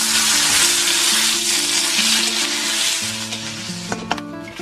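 Vegetable stalks tipped into hot oil tempered with black cumin and dried chillies for a fish curry burst into a loud, continuous sizzle up close, then settle slightly, with a few utensil clinks near the end and no voices.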